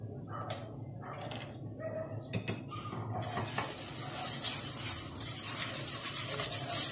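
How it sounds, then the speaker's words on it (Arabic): A Ramadan dessert mixture being stirred in a bowl, with soft scraping and clinking strokes that turn into a continuous brisk whisking noise in the second half, fairly close and quiet. "نخلطوها مزيان."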